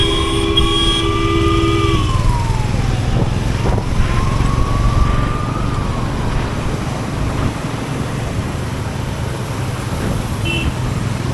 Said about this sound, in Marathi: तिथले पोलीस फार सायरन वाजवत बोंबलत फिरत असतात.